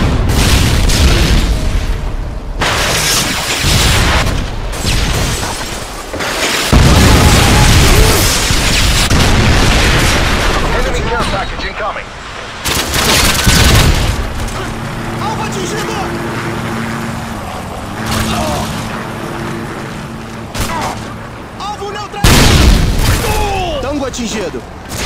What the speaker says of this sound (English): Atirando uma granada de mão.